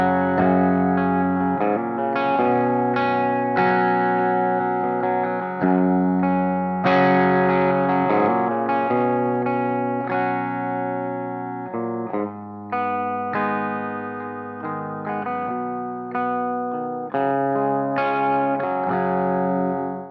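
A Joe Bonamassa Les Paul electric guitar on its bridge pickup, played through a Marshall amp with a fairly clean setting and a touch of reverb, rings out a sustained melodic phrase of single notes and bends, with no talking.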